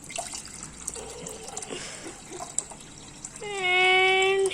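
Aquarium water is slowly poured back into an aquarium, a soft splashing trickle that swells into a steady, louder gush of pouring water toward the end.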